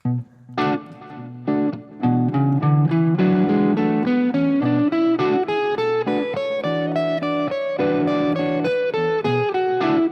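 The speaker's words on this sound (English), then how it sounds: "let me just play the Dorian scale over this" A guitar runs up and down a Dorian scale in steady individual notes after a couple of opening chords, played clearly with a light crunch and no voices.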